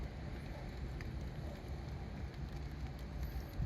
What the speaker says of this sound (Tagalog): Andyan na naman ang ulan.